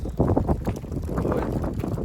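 Low, gusty wind buffeting the microphone, a rough rumbling roar that rises and falls without pause.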